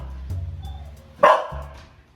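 A dog barks once, loud and near, after a quieter stretch of low background hum, with a softer follow-up sound trailing off.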